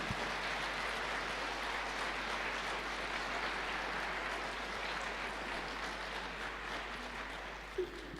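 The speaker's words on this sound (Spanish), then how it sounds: "Dale un fuerte aplauso al Señor," A church congregation at an evangelical service applauds, a faint, distant wash of continuous clapping under a low hum, steady for several seconds before tapering slightly near the end.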